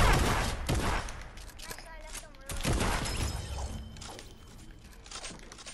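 Bursts of gunfire from the Fortnite video game crackle through much of the stretch, a continuous busy battle mix with voices talking over it.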